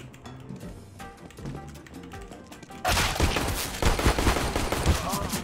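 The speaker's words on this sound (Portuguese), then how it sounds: "A Glock que atira sozinha, velho." Rapid Glock pistol fire in a video game, a quick burst of sharp shots that jumps in loudly midway after quieter game sounds, continuing as dense near gunfire.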